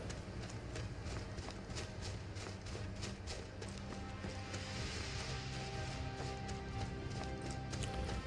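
Horse hooves clip-clop in a fantasy video game as an armored rider travels, a faint, steady rhythmic patter under ambient game sound.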